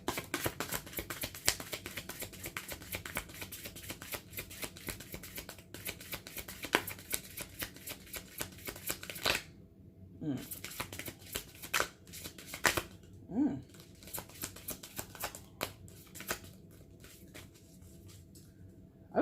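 Steady riffling and flicking of tarot cards being shuffled, close and continuous, with short pauses and occasional soft taps between bursts.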